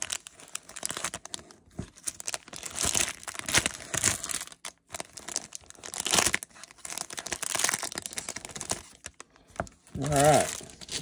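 Crinkling and tearing of the plastic wrapper being pulled off a 1985 Topps baseball rack pack, close and fairly loud in bursts, with someone talking between the crackles.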